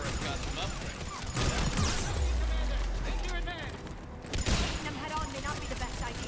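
Bursts of turret gunfire and combat noise from the video game Mass Effect 3, with loud crashes and a rumbling impact, all under a player talking throughout.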